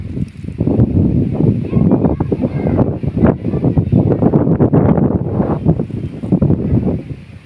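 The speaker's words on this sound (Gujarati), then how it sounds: "જો પવનને તમે ફીલ પણ કરી શકીએ આપણે" Wind blows in strong, continuous gusts, rumbling and buffeting close to the microphone with rustling noise, loud and sustained with no one talking.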